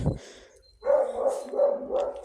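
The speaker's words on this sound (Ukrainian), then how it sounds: "собака гавкає" A dog barks a few times nearby, a quick series of sharp yaps after a brief pause.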